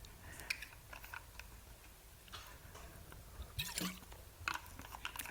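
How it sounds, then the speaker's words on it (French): Quiet close-up mouth and throat noises, a few soft wet gulps and small clicks of someone taking a drink of water, with no talking. "Prendre une gorgée d'eau."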